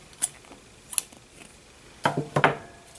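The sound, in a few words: scissors cutting yarn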